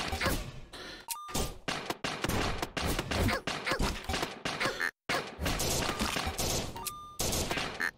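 Dense, chaotic gunfire and impact hits as the player character takes shots in the video game AK-xolotl, loud continuous bursts with brief gaps, mixed with game effects.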